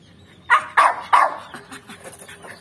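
Three sharp barks from a Puggle dog in quick succession, fairly close, followed by a few softer yips and whimpers trailing off.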